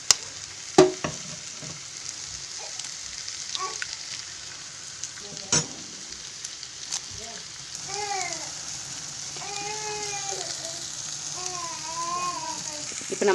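Egg podimas frying and being stirred in a pan, a soft steady sizzle with a few sharp clinks of the spatula; near the end faint chirpy squeaks rise over the frying.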